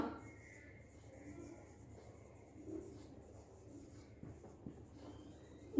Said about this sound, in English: So we write total salary of Sneha.